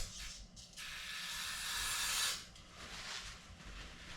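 Carburetor choke cleaner sprayed from an aerosol can into an unplugged milk machine, a close, loud hissing burst that swells for about two seconds, then shorter sprays follow, with no talking.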